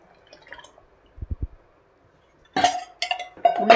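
Cooked lentils being stirred into a pot of boiling sambar in a home kitchen: a few soft low thuds, a pause, then bright bursts of metallic clinking and scraping from a spoon against the pot.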